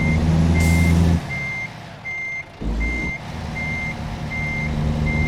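Backing toward a trailer, a Volvo VNL semi in American Truck Simulator sounds its reversing alarm: about eight evenly spaced beeps over a loud, rumbling engine that surges and dips, with an air-brake hiss near the start.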